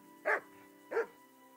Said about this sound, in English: Where are those dogs? Hello, puppies.